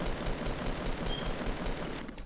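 Gunfire in Fortnite Battle Royale, a dense continuous barrage of rapid shots filling the whole stretch at steady loudness, with no gaps between bursts.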